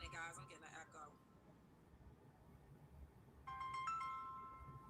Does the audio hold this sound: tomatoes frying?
no